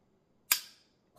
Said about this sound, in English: Those secondary blades on those 70 knives, they're like little firecrackers. They put a heck of a spring on them.